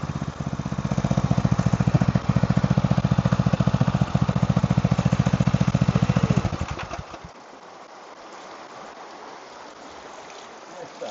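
The engine of a highbanker at a gold mining site in Papua New Guinea chugs with a loud, rapid rhythm and then idles right down to a quiet, distant hum.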